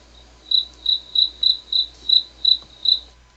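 A cricket chirps eight times in an even, evenly spaced rhythm, clear and close against a quiet background.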